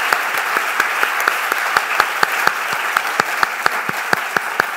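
An audience at a 2018 medical school graduation ceremony claps in steady, evenly spaced unison beats over a constant background hum.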